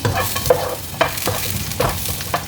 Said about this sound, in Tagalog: Igigisa natin yung ginger